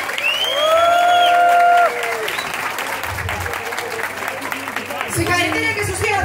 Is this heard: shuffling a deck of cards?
no